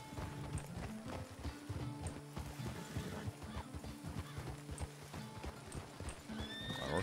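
A horse in the RedM western video game walks with steady clip-clop hoofbeats and lets out a whinny near the end. The sound is quiet and close, with little talk over it.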